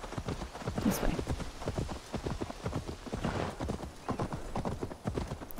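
Horse hooves clip-clop in a fast, steady galloping rhythm in the video game Assassin's Creed Valhalla, close and continuous, with a brief whinny early on.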